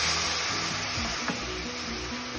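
Jaggery dissolving in water sizzles steadily in a hot pan while a spoon scrapes and stirs through it, a constant soft crackling hiss with occasional faint scraping strokes.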